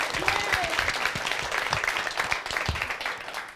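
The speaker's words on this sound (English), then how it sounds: "Let's give ourselves a clap." A women's group applauds itself at a gathering, a dense wash of clapping hands that holds steady, with faint voices mixed in.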